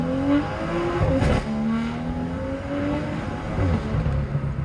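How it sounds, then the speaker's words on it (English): A BMW M2 fitted with an aftermarket intake and catless downpipe revs and pulls close by, its engine note rising and falling in drawn-out sweeps with a raspy edge, heard alone without talk. "just take a listen to how good this intake and CATLESS downpipe sound"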